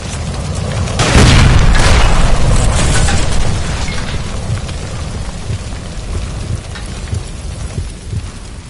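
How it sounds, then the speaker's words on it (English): In the video game L.A. Noire, a shot gas line erupts in a loud booming blast, followed by a long rushing, crackling roar that slowly fades. "Shoot the gas line, Cole, we're out of here"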